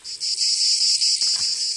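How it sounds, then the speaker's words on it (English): Cicadas buzzing in a loud, steady, high-pitched drone that pulses slightly and carries on without a break, with no speech. "Cicadas is what you're hearing there."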